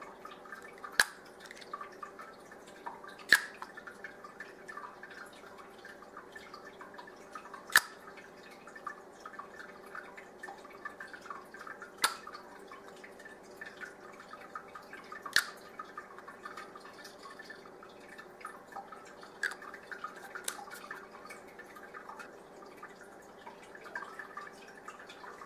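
Drops of 2% tincture of iodine fall into a container of water, small isolated plinks spaced several seconds apart over a faint, steady background hiss, each drop brief and quiet.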